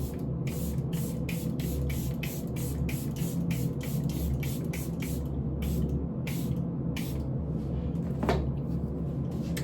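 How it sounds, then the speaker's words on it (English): Charlotte Tilbury setting spray misted onto a face in a long run of rapid, evenly spaced pumps, each a short hissing burst, close and fairly loud over a steady low background hum. "I'm going to spray my face down to make sure that none of this moves."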